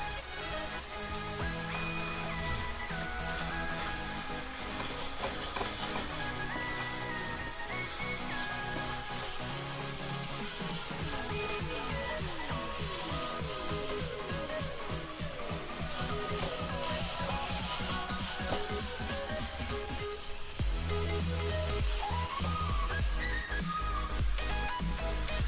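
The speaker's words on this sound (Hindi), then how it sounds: "अब इसे 2 से 3 मिनट इसी तरह भूनना है, सभी मसाला को अच्छी तरह से भून जाने तक।" Tomato paste and spices for dry masala chicken fry in a pan, giving a continuous close sizzle with hissing, whistling tones that run steadily throughout.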